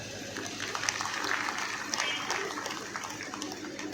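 Audience applause at a large Hindu gathering in Aligarh, a steady wash of clapping from a crowd sustained throughout, fairly distant with no clear voices over it.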